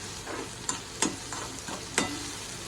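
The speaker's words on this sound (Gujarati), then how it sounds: "બહુ નથી આપણે આને લાલ કરવાના, થોડાક જ કરીશું, કેમ કે આપણે આ વઘાર કરી રહ્યા છીએ." Tempering (vaghar) sizzling in a pan, with a steady close crackle and three or four sharper spatters or stirring knocks.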